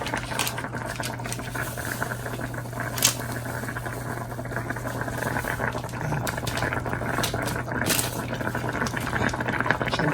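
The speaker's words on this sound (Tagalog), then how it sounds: "Tapos hintayin natin ulit na kumulo." Pinaksiw broth with pork liver and milkfish bubbling in a pot, a steady close simmer with soft popping and gurgling under a constant low hum, with a few sharper bursts along the way.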